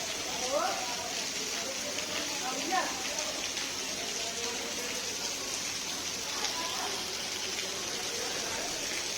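Heavy rain falls during potato loading onto a truck, a faint steady patter and rush of water with people talking over it.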